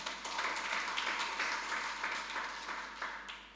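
A church congregation at a Sunday worship service breaks into steady, sustained applause from many hands, moderately distant in a large room, tapering off toward the end.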